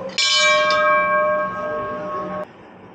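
A bell struck once at the Baba Sri Chand shrine in Mugalmajri, Punjab: a bright, loud metallic clang with a sustained ringing tone that decays over about two seconds, then cuts off.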